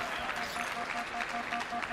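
A crowd at a Halo esports tournament claps steadily through the moment, a dense wash of applause with a faint tonal hum underneath.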